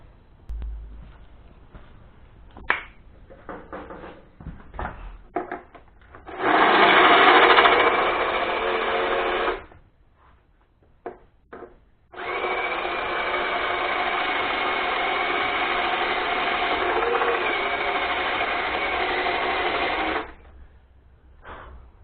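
Power drill boring a hole through the door backing panel of a 2002 VW Passat GLX during a window regulator repair: two close, steady whining runs, a short burst then a longer one, with clicks and handling noise between and no talk.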